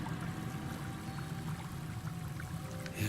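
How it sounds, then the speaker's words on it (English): Water pouring steadily from the restoration faucet in the Baldur's Gate video game, a continuous rushing stream that holds at an even level throughout, with a brief louder splash at the very end. "I'll turn on the restoration faucet for everybody."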